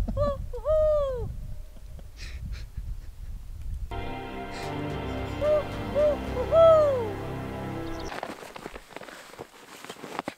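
Out on a snowy winter lake, a person's imitated owl hoots draw owl calls in reply, a short series of hoots near and far, mixed with crunching footsteps in snow.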